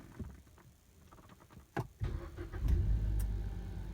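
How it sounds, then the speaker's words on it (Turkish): A car's engine is started with the push-start button while the key is held against it. Quiet clicks come first, then the engine cranks and catches into a loud, steady idle. "Bu şekilde arabamızı çalıştırıyoruz."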